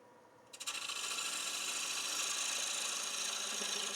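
A woodturning lathe pass cuts a wooden box blank, a bright continuous rasping hiss that begins abruptly and holds steady and fairly loud over the motor hum.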